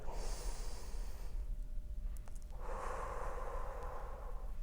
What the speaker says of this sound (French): Donc, on reste et on inspire.